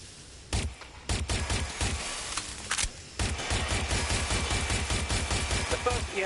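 Gunfire in Watch Dogs Legion cracks out as a few separate loud shots, then breaks into sustained rapid automatic fire that keeps going to the end, with game voices faintly underneath.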